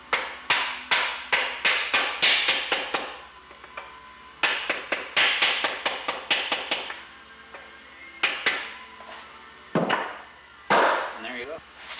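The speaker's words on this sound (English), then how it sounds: "I just use a hammer handle and kind of tap them." Rapid series of sharp, hard taps from a hammer handle on bolts during a 454 big-block Chevy engine assembly, close and crisp, in bursts with short pauses, a few heavier knocks near the end.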